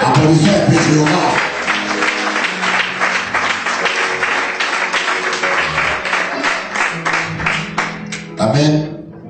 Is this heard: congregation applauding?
yes